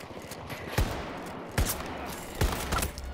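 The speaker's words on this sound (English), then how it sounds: "He got me with his shotgun." Three loud, evenly spaced shotgun blasts ring out in a Battlefield 2042 match, each a sharp crack over a low rumble of in-game background noise.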